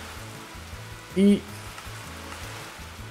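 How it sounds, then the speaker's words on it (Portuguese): Steady rain patters onto a reactor in a Minecraft world, a soft continuous hiss throughout, interrupted briefly by a short spoken syllable. "Chovendo em cima do reator."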